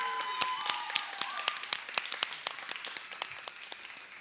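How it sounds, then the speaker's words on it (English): An audience claps for the lighting crew at an evening event, a steady round of moderately quiet applause with crisp individual claps that slowly thins out. "huge round of applause for them for making tonight even better than we could have imagined"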